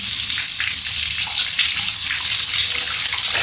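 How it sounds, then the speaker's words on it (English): Tap water runs steadily into a filling bathtub, a loud, close, continuous hiss and splash with no pauses and no voices. "I run myself a bath."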